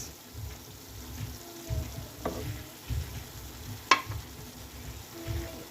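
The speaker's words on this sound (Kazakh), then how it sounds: "Тағы да араластырамыз." Food sizzles steadily in a pan while a utensil scrapes and stirs in intermittent strokes, with one sharp metallic clink partway through.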